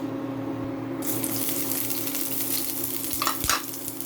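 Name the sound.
onions frying in cooking oil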